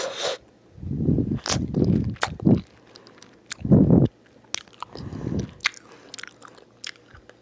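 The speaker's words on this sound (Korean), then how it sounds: "먼저 딸기를 먹어보도록 하겠습니다." Close ASMR eating of a fresh strawberry: several juicy, crunchy bites and wet chewing bursts in short clusters, separated by quiet pauses and a few small clicks, with no talking.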